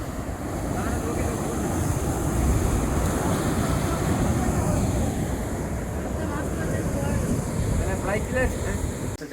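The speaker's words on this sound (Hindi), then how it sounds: "लहरें, समंदर की लहरें।" Sea waves roll in at Azhimala beach in Kerala, a continuous loud wash of surf mixed with heavy wind buffeting the microphone and no clear breaks.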